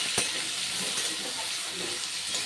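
Food fries with a pinch of turmeric in an open, uncovered pan, a steady soft sizzling hiss with faint occasional stirring scrapes, close and fairly quiet.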